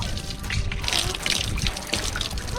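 Water poured over someone showering on the deck of an anchored sailboat, splashing and trickling steadily and close up, with no talking.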